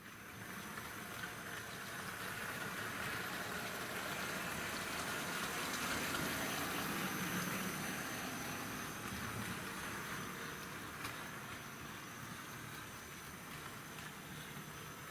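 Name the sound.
model locomotive with Hornby X04 motor running in reverse pulling wagons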